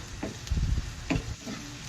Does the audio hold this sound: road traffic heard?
no